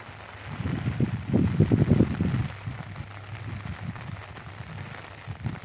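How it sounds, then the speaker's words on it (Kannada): Steady rain falls close by, a dense patter that swells louder for a couple of seconds before settling into a softer, even hiss. "ಫುಲ್ಲು ಮಳೆ ಐತೆ"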